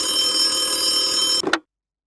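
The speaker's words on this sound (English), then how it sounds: "Then, the class was interrupted by a phone call." A telephone rings with a steady electronic trill that breaks off abruptly, interrupting a class lecture. A brief clatter follows, then silence.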